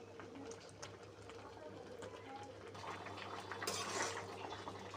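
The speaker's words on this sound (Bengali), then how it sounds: "দেখো, পাট শাকটা ফুটতে শুরু করেছে।" Jute leaves simmer in a pot of water coming to the boil, a faint, steady bubbling hiss that swells slightly toward the end, with a soft voice in the background.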